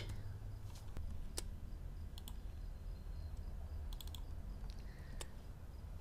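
Text is typed on a computer keyboard in scattered bursts of quiet key clicks over faint background hiss, with no talking.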